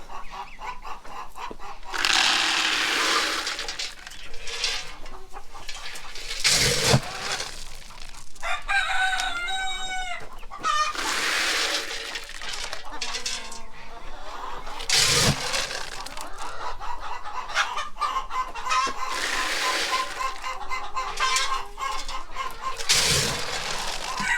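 Chickens and a rooster at a barn, with repeated loud crowing and busy clucking, near and continuous, mixed with other fowl calls and no clear speech.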